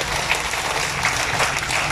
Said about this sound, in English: Can I request everyone to give a big round of applause to President Rodrigo Roa Duterte.